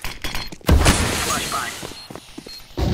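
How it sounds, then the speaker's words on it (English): A smoke grenade is thrown in Counter-Strike 2: a sharp, loud burst about a second in gives way to a sustained hissing spray, with game noise and a voice talking under it. "Throwing smoke!"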